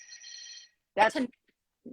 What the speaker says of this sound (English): that's the phone in this hotel.